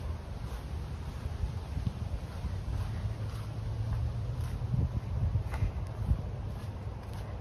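A breezy outdoor wind on a park hiking trail buffets the microphone with a continuous low rumble and soft rushing, steady and fairly quiet throughout.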